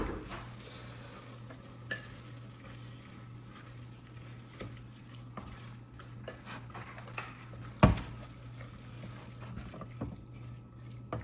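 A spoon stirs hot spices through chole pulav in a pan with soft, quiet scraping and light sizzle, broken by one sharp metallic clank partway through.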